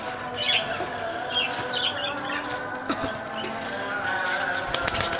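A pigeon coos softly up close amid light chirps and a brief flutter of wings, with faint background noise throughout.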